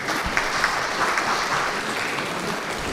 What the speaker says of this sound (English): So let us all warmly welcome Mr. Sudarshana Karkala with a big round of applause